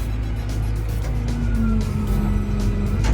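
Diesel engine of a Komatsu WA300-3 wheel loader running steadily close by with a continuous low rumble and harmonic drone, holding at a constant level throughout with no voices.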